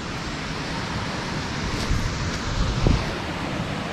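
Ocean waves breaking at the seashore make a constant close rumbling wash, with gusts of wind across the microphone and small surges in the surf, no talking.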